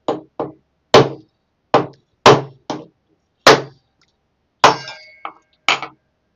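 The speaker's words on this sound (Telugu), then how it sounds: "ముందుగా కొబ్బరికాయలు ఇలా పగలు కొట్టుకుందాం." Coconuts being cracked open for coconut laddu, heard as about ten sharp, hard knocks at irregular intervals, loud and close, each with a short ringing tail and silence between them.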